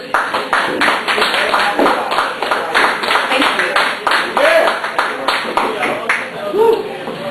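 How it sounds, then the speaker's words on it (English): Live audience at a poetry reading claps for poet Janet Kuypers, a run of distinct, fairly loud hand claps with a few sharp taps, fairly close, continuing for several seconds. "Let us have a big round of applause for Janet Kuypers."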